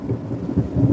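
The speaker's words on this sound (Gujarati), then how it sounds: "જો મિત્રો, આ વીજળીનો અવાજ હતો અને હવે જો વરસાદ ચાલુ થઈ ગયો." Thunder rumbling low and heavy over steady rain during a storm in Bagasara, a continuous close wash of sound with no voices.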